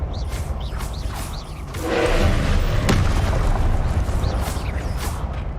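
Spell blasts in the Hogwarts Legacy video game, a loud, continuous booming rumble that swells in the middle and holds, with sharper cracks and whooshing effects layered on top.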